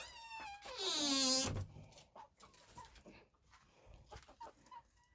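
A chicken in a coop gives a drawn-out, loud squawking call, followed by softer scattered clucks and shuffling nearby.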